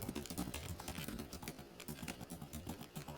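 Fingers type on a computer keyboard during data entry work, producing quick, uneven bursts of soft key clicks at close range, with no speech over them.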